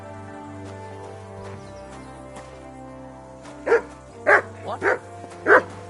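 A dog barks on command, four or five close, sharp barks in an uneven run after a stretch of low humming background, with a brief spoken word just before.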